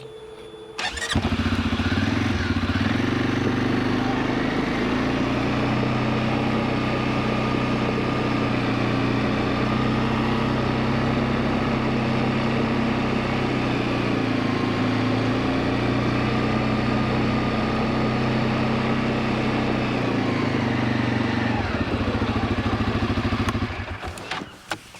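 A 2022 CFMoto CForce 500 ATV engine runs steadily for over twenty seconds during a tight turning-radius test, a continuous close-up drone with faint clatter and a slight rise and fall in pitch, ending abruptly with no talk.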